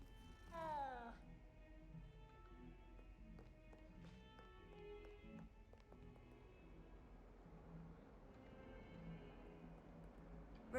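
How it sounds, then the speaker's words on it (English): A cat meows in the Hogwarts Legacy video game, a short rising series of cries near the start, over steady game ambience and background music, with someone talking in the game. "There's a cat."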